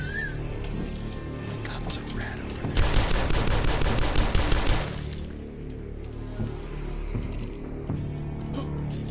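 Rapid automatic gunfire from the shooter game Dusk rattles close and loud for about two seconds in the middle, framed by quieter game ambience and someone speaking.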